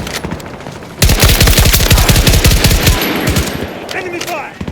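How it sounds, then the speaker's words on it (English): Rapid automatic gunfire in the video game Battlefield 2042, with a long, loud burst of fast regular shots, scattered shots before and after, and brief voices in the background. "Enemy fire!"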